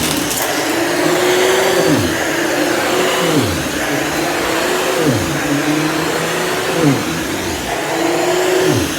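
A Cirrus canister vacuum cleaner runs loudly and steadily, its motor pitch sliding up and down in repeated sweeps as it is worked, with no talking.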